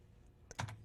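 A few quick keystrokes on a computer keyboard while entering switch commands in Packet Tracer, faint and close, a short cluster of clicks after a near-silent moment.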